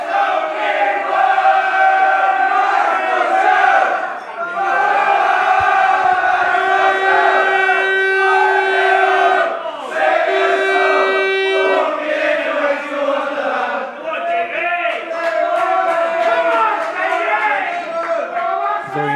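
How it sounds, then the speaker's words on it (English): Crowd at a snooker match, a loud, sustained roar of many voices chanting and singing together in waves, filling the hall with almost no letup. "you can hear the crowd really getting into the game"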